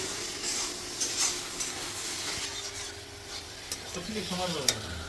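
Onion, ginger and tomato frying with spices in a village kitchen, with a spoon scraping and stirring through a continuous sizzle, heard up close and without speech.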